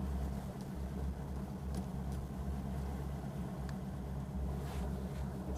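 A bass fishing boat's outboard motor idles with a low, steady, droning hum, moving off slowly from its starting spot, with faint water wash and no voices.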